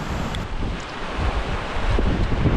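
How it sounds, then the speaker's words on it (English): Strong wind roars and buffets a head-mounted microphone on sea cliffs before a storm, a constant loud rushing with low rumble and no talk. "you can hear how windy it is"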